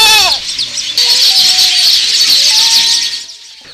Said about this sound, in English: you are welcomed by the sound of birds that have turned this tree into their home